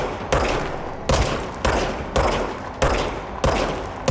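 Gunfire from the Service Weapon in the video game Control: five loud, sharp shots spaced roughly evenly about two-thirds of a second apart, each with a decaying tail, no talking.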